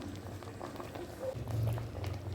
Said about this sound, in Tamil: தால்ச்சா ஒரு 2 நிமிஷம் கொதிச்சா போதும்.